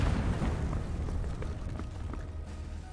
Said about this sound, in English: Fuck me, that's artillery!